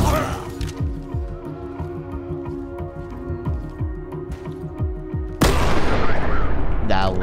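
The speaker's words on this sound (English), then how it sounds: "That was a bomb." A bomb explosion bursts out in the tactical shooter Ready or Not, a loud broadband blast that cuts in abruptly after several seconds of scattered gunfire and game noise, then lingers as rumbling debris.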